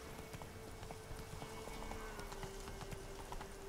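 Hoofbeats of the horse Roach galloping in The Witcher 3 repeat at a quick steady clip-clop, moderately loud over a faint tonal hum and ambient game sounds, with no talking.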